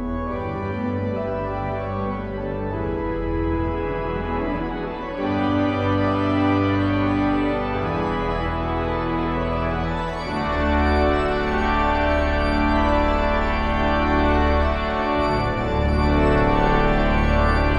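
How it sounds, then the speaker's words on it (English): A pipe organ swells through the crescendo of a piece from How To Train Your Dragon. Dense, sustained chords hold at full volume and grow steadily louder toward the end. "The organ snarls into life and it sounds like this."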